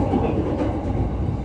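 Tokyo Yamanote Line train at Uguisudani Station, a steady close rumble of wheels and carriages rolling along the rails, loud and continuous with no voices.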